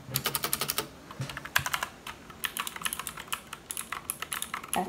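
Rapid clacky keystrokes on a Marvo Scorpion KG901 mechanical keyboard, typed in quick bursts with brief pauses, close and crisp.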